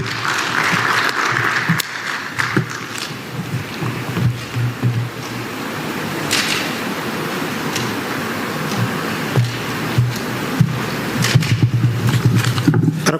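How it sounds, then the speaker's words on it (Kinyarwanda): Sustained audience applause at a ceremony honoring students who passed state exams, a dense wash of many hands clapping that holds steady for the whole stretch with a few louder sharp bursts. "Tongere dukomere amashyi abanyeshuri bakoze ibizami bya leta"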